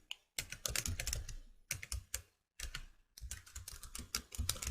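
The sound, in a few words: typing on a computer keyboard and pressing enter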